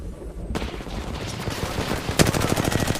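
Rapid gunfire bursts in an Apex Legends match, a dense rattling stream of shots starting abruptly and building to a sharp louder crack near the end.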